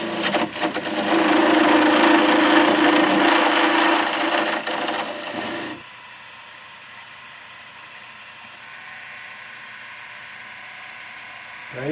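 A skew chisel scrapes and cuts along spinning wood on a lathe, riding the bevel to make shavings, a steady rasping hiss for several seconds that then stops, leaving the quiet hum of the running lathe.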